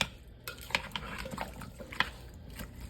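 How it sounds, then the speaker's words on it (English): Spoon stirring a thick dish inside a slow cooker, giving a few soft scrapes and clinks spread through the stir, moderately close with no voices. "I'm going to continue to stir it"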